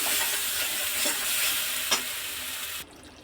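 Spiced water poured into hot, oil-released masala for a fish curry, producing a loud steady sizzle and hiss with a brief sharp burst near the end before it cuts off abruptly.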